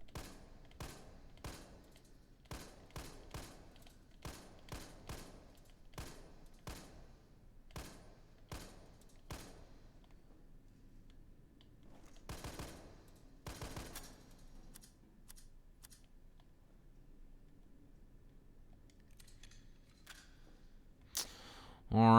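G18 Burst handgun in Resident Evil 3 Remake fires a series of sharp, close shots, some singly and some in quick bursts, spaced irregularly with quieter gaps and a cluster of rapid shots partway through.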